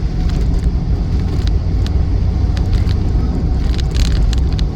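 A highly modified Land Rover Defender 110 with a 2.2 TDCi diesel engine cruising at 40 mph, heard from inside as a loud, steady engine drone and road rumble with no speech.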